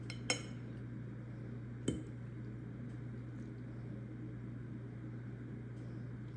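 Metal cutlery clinking as a kitchen knife is picked up during Easter dinner preparation, two sharp clear clanks early on, then quiet hum with no talking.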